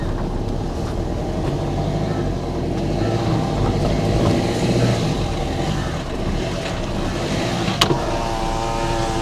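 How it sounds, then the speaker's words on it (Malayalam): A car climbs a steep, awkward entry into a house compound, its engine a steady close rumble throughout with a brief clunk near the end. "ആദ്യം നമ്മളെ വണ്ടി ഒന്ന് കയറട്ടെ"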